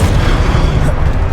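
A deep, booming spell blast from the Confringo spell in Hogwarts Legacy, a single heavy rumbling explosion that fills the short moment.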